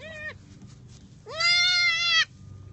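A baby goat kid bleats while looking for milk: a short bleat, a pause, then a longer, louder wavering cry, close by against a low background rumble.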